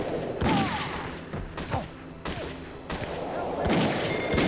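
Gunfire in the video game The World Is Not Enough: a rapid run of loud gunshot bursts roughly every second, sharp and punchy, with the game's ambient effects between shots.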